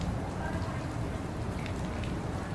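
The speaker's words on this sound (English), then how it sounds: "And rain, of course." Steady rain falls on a surface with dense, even patter and hiss throughout, an added sound effect laid over the scene with no break.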